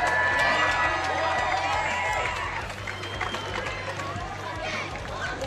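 Crowd at a mushroom eating contest cheering and clapping continuously, loud and close, with shouts and chatter mixed in and an announcer's voice over the noise.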